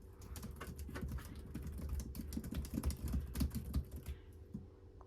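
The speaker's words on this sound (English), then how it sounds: "The keyboard is clicky, like how it should be." Rapid, light clicky keystrokes on a Logitech K380 wireless keyboard, an uneven patter of close taps running steadily and then tapering off near the end.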